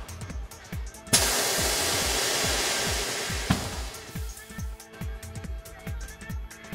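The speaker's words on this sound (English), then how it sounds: "Here we see how the bead breaker pushes the tire bead over the hump." Pneumatic bead breaker on a TWIN BUSCH TW X-36 tyre changer pushing a tyre bead over the rim hump: a loud, sustained rush of air lasting a couple of seconds, then fading, over a steady rhythmic thumping background.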